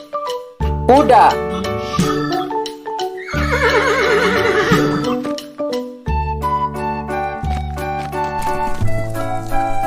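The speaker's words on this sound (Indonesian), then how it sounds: "Kuda." A horse whinnies loudly in rising and falling neighs, repeated across the clip, with hoof clip-clops and other farm sounds in the mix.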